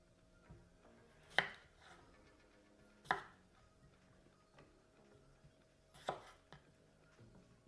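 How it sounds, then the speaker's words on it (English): Knife chopping potatoes into quarters on a board: three distinct sharp chops spaced a couple of seconds apart, plus a few softer knocks, close and clear in a quiet kitchen. "now the 2 potatoes I have, I am just chopping it into 4 pieces"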